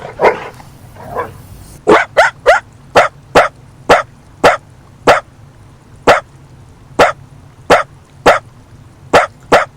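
A dachshund barks repeatedly in a steady, insistent rhythm, a dozen or more sharp yaps in a row, close and loud with brief gaps.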